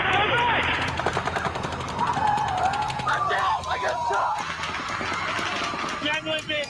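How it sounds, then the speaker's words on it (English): Rapid automatic gunfire crackles in long bursts during the Route 91 shooting in Las Vegas, distant and echoing, with panicked shouting and people running throughout. "Automatic fire!"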